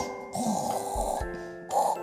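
A storyteller's voice imitates the snoring of a sleeping Pharaoh, giving two drawn-out snores in a row, close and fairly loud with no other talk.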